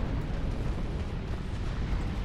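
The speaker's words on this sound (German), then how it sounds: "Abgesehen davon, dass sie explodieren, wenn ich auf sie schlage." Barrel enemies bursting when struck in Dark Souls 2, Crown of the Iron King area: a continuous loud, rumbling blast that fills the whole moment with dense low roar and no clear separate hits.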